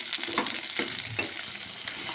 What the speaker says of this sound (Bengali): উপকরণকে ভালোভাবে ভেজে নেব।